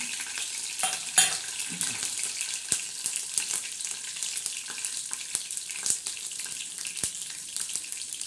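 Curry leaves tempering in hot oil with a little garlic, giving a faint, steady crackling sizzle with scattered small pops and clicks over about eight seconds.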